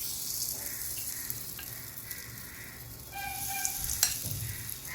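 Spoonfuls of gram flour batter dropped into hot oil for besan gol gappe: a soft, steady sizzle of frying runs throughout, with a few brief clinks and a slight rise in bubbling near the end.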